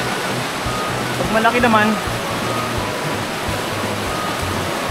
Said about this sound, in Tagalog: grabe ang lakas ng agos